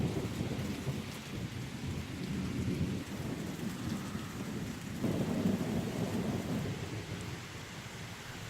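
Steady rain pours down throughout a thunderstorm, a dense close hiss of falling water with a low rumbling bed and no voices.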